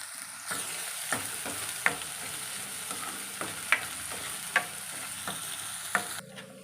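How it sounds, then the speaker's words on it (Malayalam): Crushed small onions sautéing in a pan for Kerala pumpkin curry, a soft steady sizzle broken by repeated sharp clinks and scrapes of a spoon stirring at an uneven rhythm, fairly quiet and close. "അമ്മ ഇപ്പോൾ ഉള്ളി ചതച്ച് ഇതിനകത്തേക്കിട്ട് ഒന്ന് വഴറ്റിയെടുക്കുകയാണ്"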